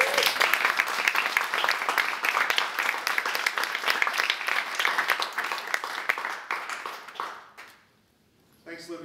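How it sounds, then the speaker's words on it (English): An audience claps for Luke at a Q and A, dense continuous applause at a fairly loud, even level for about seven seconds before it dies away abruptly, followed by a short silence and a little renewed sound. "let's give Luke a round of applause"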